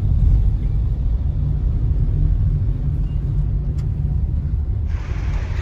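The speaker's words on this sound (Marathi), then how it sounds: "ट्रॅफिक येताना रस्त्याला खूप ट्रॅफिक होती" Steady, loud low road rumble from heavy traffic and car engines on a congested road near Bhiwandi, continuous throughout with no talk.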